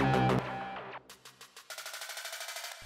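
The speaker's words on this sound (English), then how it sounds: "And here we have just snare roll" Several loud hits give way to a rapid snare drum roll that speeds into a tight, evenly spaced burst of strokes.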